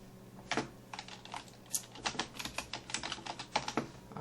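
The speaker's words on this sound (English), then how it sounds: "I'm gonna retype it." Brisk typing on a computer keyboard while entering lettering text, a steady patter of close, crisp key clicks with uneven rhythm and a few sharper strikes, heard on its own with no talk.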